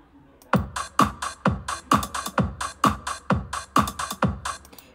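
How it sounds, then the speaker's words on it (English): A basic four-to-the-floor verse drum beat for a school song composition drives steadily, with punchy kicks landing on every beat and bright snare and hi-hat hits filling between them at a moderate tempo. "It's just a basic 4-to-the-floor beat."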